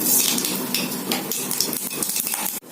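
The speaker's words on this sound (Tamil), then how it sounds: "ஒரு ஸ்பூன் எண்ணெய் ஊற்றிருக்கேன் கொஞ்சம் கடுகு போட்டுடலாம்" Loud, crackling sizzle of mustard seeds popping in hot oil, sharp pops scattered over a hissing bed, close up.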